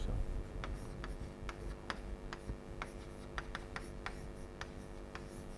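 Chalk or marker writing on a board during a lecture makes a series of short ticking taps and scratches at an uneven pace, close by over a low room hum.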